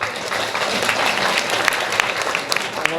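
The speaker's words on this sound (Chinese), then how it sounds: "是不是为自己拍手一下？" Steady applause from the audience at a scholarship award ceremony at Tainan's Tiantan temple, dense and continuous with some sharper claps standing out, no speech over it.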